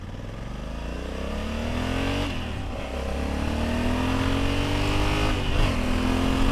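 A Honda Africa Twin CRF1100 motorcycle revving under way, its engine note climbing steadily, dipping briefly at two gear shifts, then rising again, loud and close throughout.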